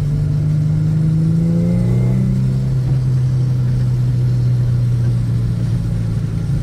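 Infiniti G35/G37 sedan with a Stillen Y-pipe exhaust revs up for rev matching, then settles into a steady, loud droning engine note close by, with no talk.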